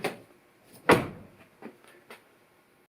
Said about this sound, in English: I checked if the door was closing and opening properly.